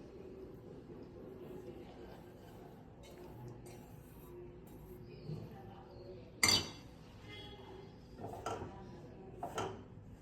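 Gram flour being stirred and roasted in a kadai, with a few sharp metal utensil clinks against the pan over a low steady background, one loud clank standing out near the middle.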